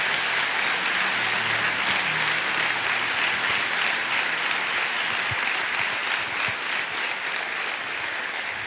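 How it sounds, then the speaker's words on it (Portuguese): A church congregation at a Sunday communion service applauds with sustained, dense clapping that stays loud and even from start to finish, with no speech over it. "Aplauda Jesus com alegria."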